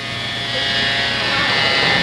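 An electric razor buzzes loudly and steadily for about two seconds, a constant close-up drone that never changes pace.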